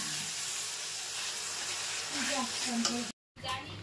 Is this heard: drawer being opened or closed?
no